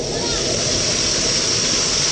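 A forest waterfall roars steadily and loudly up close, a dense unbroken rush of falling water.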